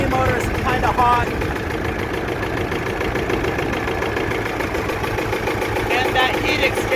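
The pony motor of a John Deere R tractor running after a cold start, a steady mid-pitched knocking idle close by, with people talking over it.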